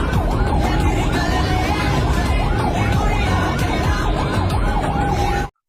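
A loud ambulance siren wails with a rising and falling tone on a busy road in Kerala, steady and close throughout over traffic noise, ending abruptly.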